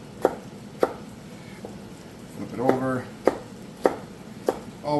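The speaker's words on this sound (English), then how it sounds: "We're going to do the same thing to the pepper that we did with the onion. Really, really coarse chop." A knife coarsely chops a pepper on a cutting board, giving six or seven sharp, evenly spaced knocks, with someone talking between and over the cuts.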